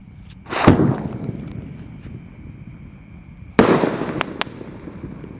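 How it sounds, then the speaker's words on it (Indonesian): Two loud, close bursts from a Bima Sakti 5-inch Roman candle firework, each a sharp pop followed by a crackling, fading tail, a few seconds apart, with no talking. "selanjutnya di sini ada Bima Sakti Roman Candle ukuran 5 inci guys, yang paling jumbo"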